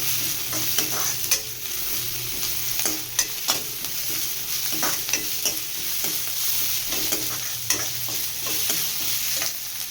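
Onions with ginger-garlic paste frying in a pan give a steady close sizzle, with repeated scraping stir strokes of a spatula at an irregular rhythm and no voices.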